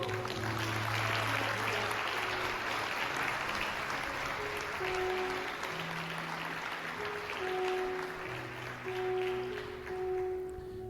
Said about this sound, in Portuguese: Aplauda bem forte, Senhor.